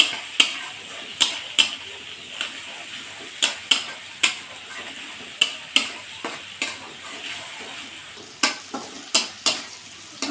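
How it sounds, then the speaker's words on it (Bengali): A spice paste with salt and turmeric fries in a pan for a fish curry, stirred in steady, regular scraping strokes over a soft background sizzle, close and fairly loud. "আর একটু হলুদ এই মশলাটা দিয়ে দেবো দিয়ে মশলাটা সুন্দর করে কষিয়ে নেব"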